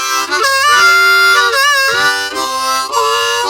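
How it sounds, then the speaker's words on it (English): A harmonica plays loud, bending chords with several notes sounding together, sliding between pitches in a bluesy phrase. "playing more than one note at a time can increase the blues horsepower"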